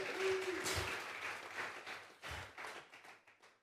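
A church congregation claps hands together during a Sunday worship service, a dense burst of clapping that thins into scattered, slower claps toward the end.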